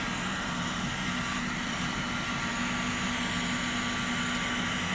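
A professional heat gun runs continuously, giving off a steady, loud blowing hiss with a faint low hum, unchanging and close for the whole stretch, with nobody speaking.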